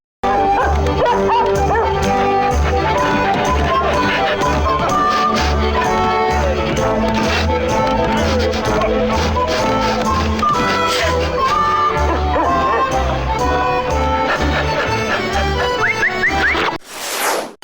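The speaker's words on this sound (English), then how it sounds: "Hey, look, a dancing dog." Cartoon dog barking as it dances in The D Show, a Disney-themed PC video game, yipping in bursts over loud, continuous game music throughout the clip.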